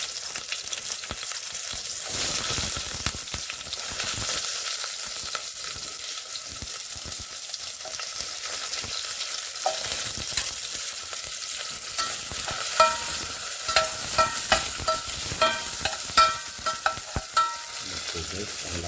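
Onion and garlic frying in a pan for native chicken with sayote, loud continuous sizzle with frequent stirring scrapes and clinks growing busier toward the end, no speech heard.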